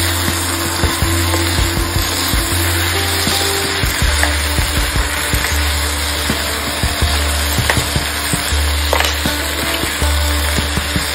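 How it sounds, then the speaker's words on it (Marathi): Goda masala being stirred into brinjal and potato bhaji as it fries in a pan: a steady, loud sizzle throughout, with scraping stirring strokes and small clacks scattered irregularly through it. "हे सगळं आपण आता चांगलं मिक्स करणार आहोत।"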